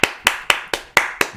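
Six sharp hand claps at a steady rhythm, close and fairly loud, each one a crisp burst with a short decay, no voices over them.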